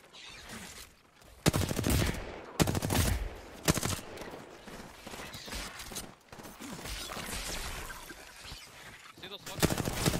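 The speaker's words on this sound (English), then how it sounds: "There's a team shooting at the charger." Bursts of rapid automatic gunfire from a team in a first-person shooter video game, loud volleys crackling in several separate clusters, with game sounds and talk mixed in underneath.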